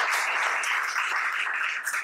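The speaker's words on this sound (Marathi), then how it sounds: "त्यामुळे त्याच्यासाठी आपण कर्नल साहेबांना टाळ्या दिल्या" Audience applause for a colonel, a steady dense burst of many hands clapping that holds evenly throughout and fades slightly at the very end.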